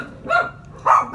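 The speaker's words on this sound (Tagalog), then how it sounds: "Pasensya na po sa ingay at maraming aso rito mga idol." Several dogs bark from a short distance outdoors, two bursts of barking about half a second apart, moderately loud with no talk over them.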